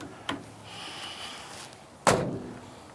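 The vent window on a 1951 Chevrolet five-window pickup is swung open and then shut, making a light click followed by a firmer metallic clunk, close by with no talking.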